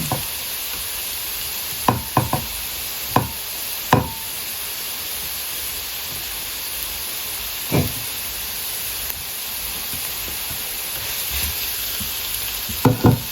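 Onion and garlic sautéing in a pan, a loud continuous sizzle and hiss broken by several sharp scrapes and knocks of a spatula.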